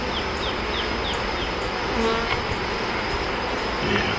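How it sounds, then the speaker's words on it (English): Honey bees buzzing during a hive inspection in late May, a steady dense drone filling the air up close, with a faint high tone running underneath. "Don't see anything noteworthy, except lots of bees."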